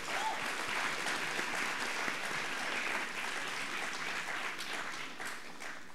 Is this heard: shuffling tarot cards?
no